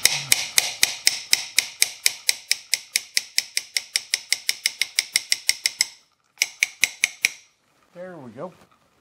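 Repeated metal-on-metal hammer blows on a gearbox part from a Toolmaster milling machine's feed gear box, a fast even series of about thirty sharp ringing hits, a short pause, a few more strikes, then a brief voice.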